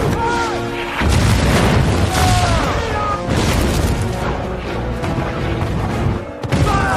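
Heavy, continuous booming of cannon fire bombarding fortress walls in a war film, loud and dense, blasts overlapping with crashing debris and brief pauses between volleys.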